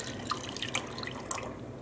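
Water rinses out a funnel, a steady trickle with small scattered drips and splashes, close and moderately quiet, with no talk.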